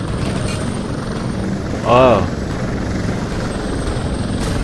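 A helicopter in the video game Prototype 2 holds a steady hover, its rotor drone constant and fairly close throughout, with a brief louder swell midway and a short spoken exclamation over it.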